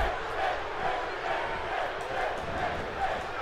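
A video game arena crowd in WWE 2K16 keeps up a steady, swelling roar of cheering and chanting during a wrestling match, a continuous wash of many distant voices.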